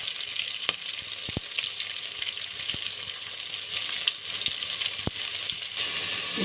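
Brinjal and spices fry for pulao in a continuous, even sizzle, punctuated by occasional spoon taps and scrapes against the pan, with no voices.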